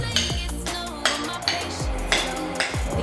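Ingredients for baked potatoes are mixed in a bowl, a steady close-up scraping with rhythmic clinks of a utensil against the bowl about every half second.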